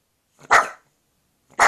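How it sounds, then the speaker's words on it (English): A dog barks twice, sharp and close, with a short silence between the barks. "And that's him barking."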